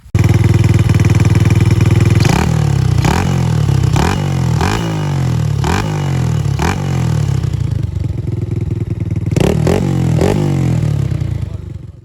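A small Dax-style minibike engine cranks with several sharp pulls, catches, and settles into a loud, rattly idle close by.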